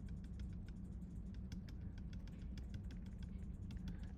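A pen taps quickly and lightly on a graphics tablet during photo retouching, the small clicks irregular and faint against a quiet room hum.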